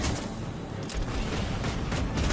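Enemy gunfire in the video game Mass Effect 2, a dense rumbling barrage of shots and booms filling the whole stretch, loud and continuous with a few sharper bursts.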